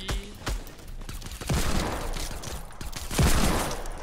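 Gold SCAR assault rifle fire in Fortnite, several quick bursts of sharp gunshots with short gaps between them, loud and punchy, with some scattered game noise in the background.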